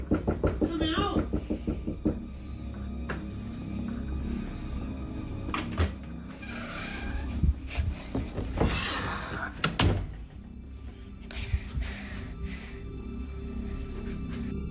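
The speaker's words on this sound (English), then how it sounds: "The knocking continues, along with the same familiar voice urging him to open the door." Knocks thud against a door in irregular clusters, fairly close and solid, with a voice talking over parts of it.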